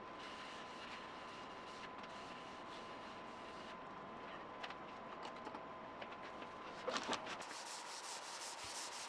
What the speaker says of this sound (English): I'm using a 320 sandpaper, and then I'm using tack cloth to get all the sanding remains and residue.